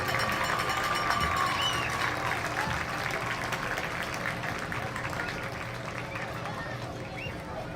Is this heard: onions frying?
no